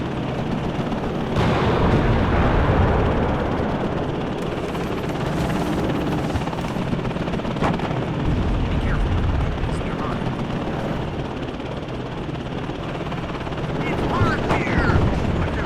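AH-64 Apache attack helicopter in the Cold War strategy game Warno, a steady loud rotor-and-engine drone running throughout with scattered sharp explosive cracks and gunfire bursts over it, and a voice talking at times.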